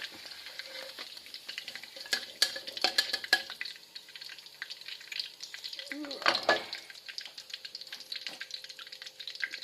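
Food being stir-fried in a home kitchen pan, with a soft continuous sizzle, scraping and clinking of a utensil, and a brief louder stir burst midway; a voice can be heard faintly.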